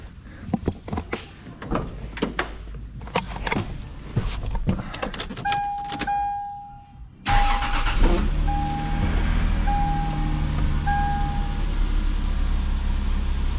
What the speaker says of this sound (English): But I got a beautiful 2JZ engine.